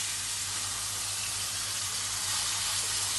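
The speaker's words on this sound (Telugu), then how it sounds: "ఈ ఇలాగా తురిమిన రాచగుమ్మడిని ఫ్రై చేస్తా నెయ్యి" Grated pumpkin fries in ghee, giving a steady, close sizzle and hiss that runs unbroken from start to finish with no talk over it.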